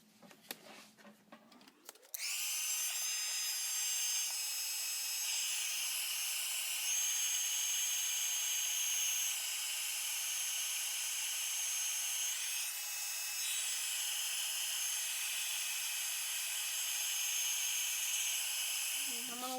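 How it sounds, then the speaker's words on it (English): A heat tool for card crafting switches on after a few handling noises and blows with a loud, steady high-pitched whirring roar, then cuts off near the end. "now it might get a little bit loud here. I'm fixing to use the heat tool."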